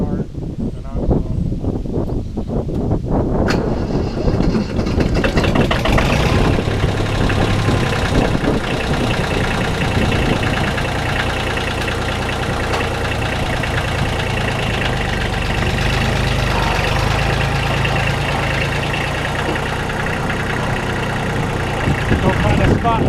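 A Kubota L235 tractor's diesel engine idles after a hard start, a steady rough chugging rumble with a mechanical knock that runs close and loud throughout while someone talks over it.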